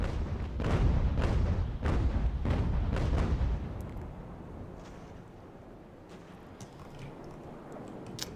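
Heavy naval cannon fire in the age-of-sail battle game Ultimate Admiral: Age of Sail, a string of about six deep booming shots in quick succession, then a quieter rumbling tail with faint distant thuds.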